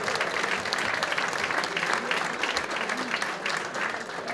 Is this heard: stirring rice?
no